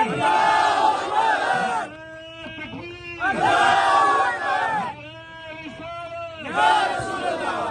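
A political rally crowd outside Adiala Jail roars back in loud, rhythmic bursts of collective chanting in response to a Nara-e-Takbeer slogan call, with alternating surges of massed voices and quieter gaps.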